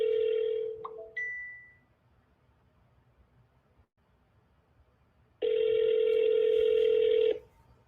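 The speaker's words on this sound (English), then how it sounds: "you guys can hear the phone?" A telephone call rings out through a speakerphone: two loud, steady electronic ring tones, one at the start and one after a quiet pause of several seconds, with no talk.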